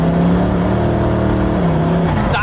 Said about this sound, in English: You might have actually just noticed that I went to pull the downshift paddle there